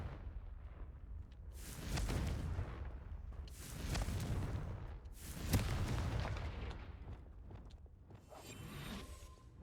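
Confringo explosive spell blasts in Hogwarts Legacy, three or four heavy booming bursts at regular intervals, each swelling with a whooshing rumble and fading, loud against a quiet background.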